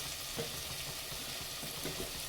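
Steady sizzling hiss of mutton masala spices frying in hot oil, continuous and close, with faint stirring scrapes underneath.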